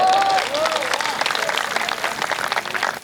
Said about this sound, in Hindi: तालियां अब भी कम रह गई हैं